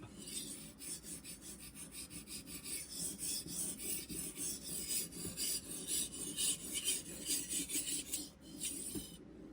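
A knife blade scrapes repeatedly across a sharpening stone on a Cheefarcuut guided knife sharpener, producing a steady, close rasping rhythm of strokes with no talk.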